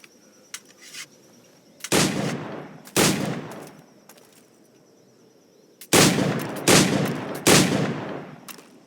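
Firearm shots in Assassin's Creed IV: Black Flag, loud sharp reports in two clusters, a pair of blasts followed by three closely spaced shots, with faint game sounds between them.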